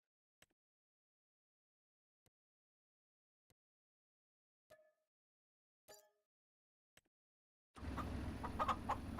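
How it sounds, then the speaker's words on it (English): A few brief, sparse clucks from a rooster in the farming game Farming Simulator 25, separated by quiet gaps with faint clicks, before a sudden burst of loud broadband noise takes over at the end. "Now I've got a rooster"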